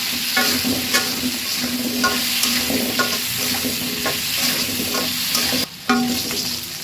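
Potato pieces, some cut in half and dusted with a little turmeric, fry steadily in hot oil, a loud, close, continuous sizzle with faint stirring ticks and a brief dip near the end.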